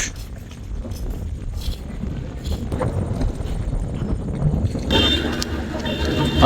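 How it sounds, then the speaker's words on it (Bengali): Strong wind gusts over a river at the Ilisha ferry ghat in Bhola at night, a steady rumbling buffet against the microphone throughout, with faint background activity. "নদীতে প্রচুর বাতাস"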